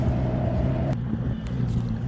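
A Ranger Z21 bass boat's engine idles on Lake Conroe, a steady low rumbling hum close by with a faint higher whine that drops out partway, amid light wind and water noise.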